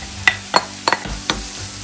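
Onions and peppers sauté in a pan with a soft sizzle, broken by about five sharp scraping stirs from a utensil at irregular intervals, close by and with no talking.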